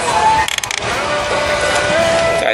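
A ratcheting tool tightening the bolts on a Harley-Davidson Ultra Classic handlebar clamp, a quick run of close clicking with metallic mechanical noise around it, with no talk.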